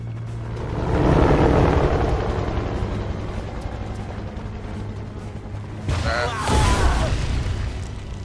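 Helicopters in the Beyond Two Souls video game give a steady low rotor rumble across the whole stretch, swelling early and again near the end, loud with no talk.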